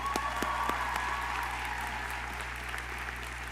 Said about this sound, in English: Please join me in applauding their accomplishments.